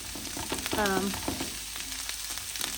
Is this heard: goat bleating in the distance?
no